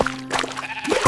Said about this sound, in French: Il bêlait bruyamment et remuait la queue